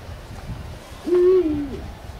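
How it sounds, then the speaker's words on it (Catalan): A recorded little owl call plays as a single clear, mellow hoot with a slight rise and fall, loud and close over a soft background murmur. "Qui podria ser aquest? Un mussol."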